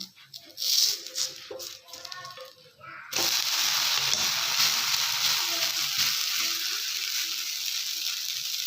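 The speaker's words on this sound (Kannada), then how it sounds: "ಬನ್ನಿ ಇವಾಗ ದೋಸೆ ಮಗ್ಚ್ ಹಾಕ್ಕೊಳ್ಳೋಣ ಅಥವಾ ತಿರುವಿ ಹಾಕ್ಕೊಳ್ಳೋಣ" A rice flour dosa turned over on a hot pan, giving scattered light clatter for about three seconds, then a loud, steady broadband sizzle that holds to the end without talk.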